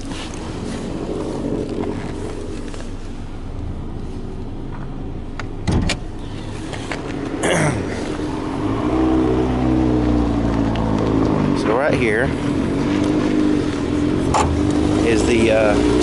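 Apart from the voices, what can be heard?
2015 Dodge Dart 2.0 liter 4-cylinder engine idling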